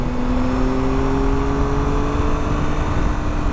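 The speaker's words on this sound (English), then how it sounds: "If you want the revs a bit more, go higher up into the rev range." A Triumph Tiger 1200 motorcycle engine holds a steady, loud, close drone with a rising whine as the revs climb, running continuously with no talk.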